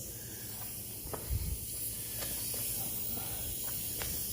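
A paint spray gun hisses steadily as it lays a coat of paint on a Ford Explorer rear bumper, an even close hiss with a few faint knocks and clicks.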